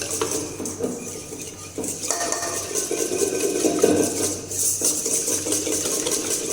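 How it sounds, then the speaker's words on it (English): Chocolate loaf cake batter whisked in a pot with powdered sugar, a continuous run of rapid metallic clinks and scrapes from the whisk against the pot, close and fairly busy, with no voices. "Whisk it properly till the time there are no lumps left."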